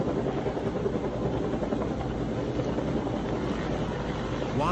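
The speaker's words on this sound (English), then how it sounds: "aren't choppers so incredible" Helicopter flying over the Los Angeles wildfires, a steady broadband rotor and engine roar holding at constant loudness for the whole stretch with no voices.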